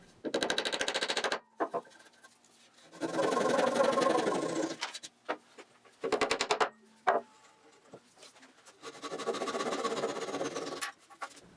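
A hand saw trims wooden plugs flush on a wooden step stool, with several bursts of rapid back-and-forth strokes separated by short pauses.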